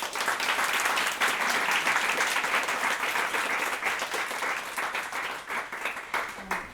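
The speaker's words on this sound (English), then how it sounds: "So if you could please join me in a round of applause" An audience applauds panelists at the close of an International Women's Day panel event, dense steady clapping filling the room throughout, tapering slightly toward the end.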